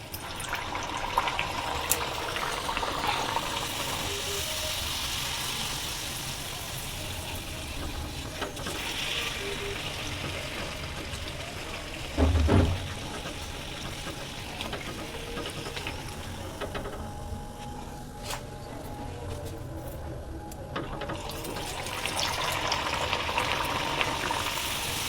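Pea-filled kachori deep-frying in hot oil in a kadai, one at a time, giving a steady close bubbling sizzle throughout, with a brief louder burst partway through and no talk.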